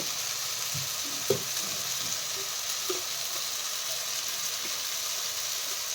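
Cumin powder and spices fry in hot oil in a pan for a rohu fish curry with chana dal, a steady close sizzle with a couple of faint clinks of stirring.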